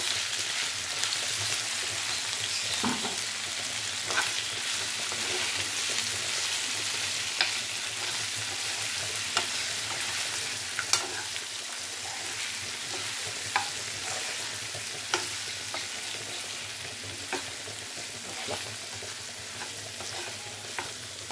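Chicken fries with masala in a pan, a steady close sizzle punctuated by occasional clicks and scrapes of a spatula stirring, with no talking.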